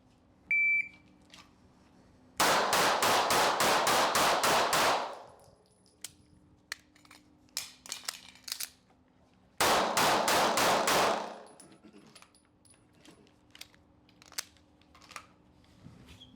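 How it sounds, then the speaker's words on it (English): A handgun fires two long rapid strings of shots while the shooter moves in a straight line, each burst loud and sharp with a ringing tail. Quiet clicks and metallic handling sounds fall between the strings. "Straight line moving and shooting."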